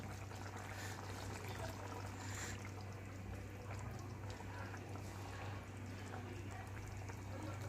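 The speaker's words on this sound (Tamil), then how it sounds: "நான் இப்போ மிக்ஸி ஜார் கழுவி அதே தண்ணியை சேர்த்துக்கிறேன்" Water from a rinsed mixer jar is poured into a simmering Chettinad bitter gourd tamarind curry with ground coconut masala, a faint continuous pouring and trickling sound.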